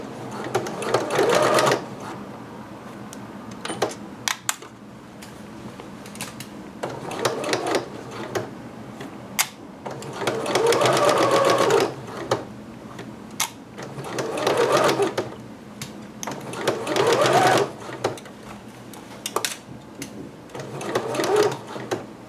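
A sewing machine stitches a Simplicity pattern piece in repeated bursts of fast whirring, separated by short pauses and clunks, with no talking over it.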